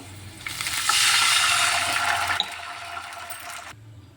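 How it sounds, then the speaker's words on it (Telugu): Two glasses of water poured into a hot frying pan of roasted rava for upma, a loud continuous sizzling hiss and gush lasting about three seconds, then fading into quieter bubbling. "నేను టూ గ్లాస్ వాటర్ వేసుకుంటున్నాను"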